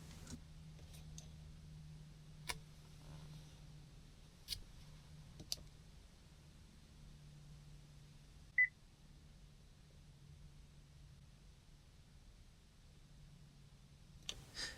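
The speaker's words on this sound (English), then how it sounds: "I press the button on the end of the stalk and wait for the audible beep" A single short electronic beep sounds from a Vauxhall Mokka dashboard after the stalk-end button is pressed, faint and isolated amid quiet cabin ambience with a few scattered clicks.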